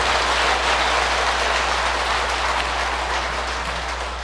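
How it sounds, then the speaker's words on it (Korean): Sustained applause from a crowd gathered for a Buddhist bodhisattva precepts ceremony, a dense, steady patter of many clapping hands filling the room at full volume, fading slightly toward the end with no speech over it. "박수 한번 치시오"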